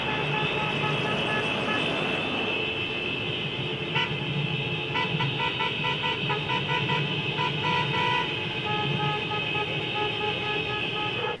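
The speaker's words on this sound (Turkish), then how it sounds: "motosikletli kuryeler konvoy oluşturup korna çalarak" A convoy of motorcycle couriers rolls through Ordu, Turkey, toward the courthouse in a protest, with horns tooting in a steady stream over continuous engine and traffic noise.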